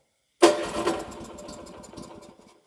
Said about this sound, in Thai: ดึงโชคนิดนึงนะแล้วก็เล่นคันเร่งนิดเดียวแล้วสตาร์ทได้เลย